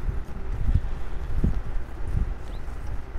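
Horse hooves clip-clop in the Red Dead Online game, a few soft irregular thuds close by over steady wind-like background noise.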